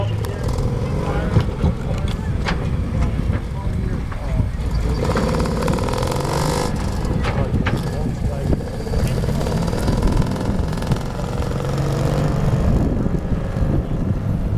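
A tank's engine runs steadily while driving, a continuous low rumbling drone that stays loud and even throughout, with a voice talking over it.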